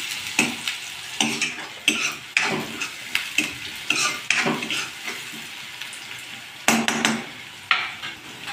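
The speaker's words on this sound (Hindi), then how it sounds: "तो गोल्डन फ्राई होने तक पकाते हैं।" Onions frying in a pan for a spiced potato sabzi, sizzling steadily while a spoon stirs and scrapes against the metal in repeated sharp strokes, close and fairly loud with no talking.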